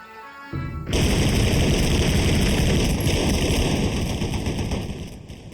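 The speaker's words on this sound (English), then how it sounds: "I order the machine guns to open fire" Machine guns open fire on an attacking formation in the Korean War: after a short lead-in, sustained loud rapid automatic gunfire roars without letup for several seconds before easing slightly at the end.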